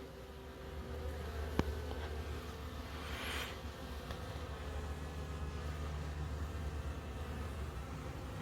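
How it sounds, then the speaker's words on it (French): A honeybee swarm buzzes steadily in front of a hive at an apiary in the Vosges, a continuous close drone with one brief sharp tap partway through. "En tout cas, c'est un essaim qui a bien repris."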